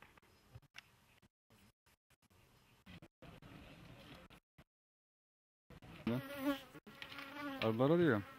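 Buzzing bees drift close and away in bursts around hives, with quiet gaps between, growing louder and wavering in pitch toward the end.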